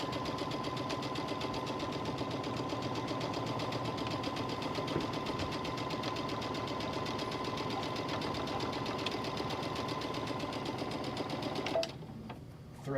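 A sewing machine runs steadily while stitching the lining of boys' shorts, a continuous fast whirring hum at close range that stops abruptly near the end.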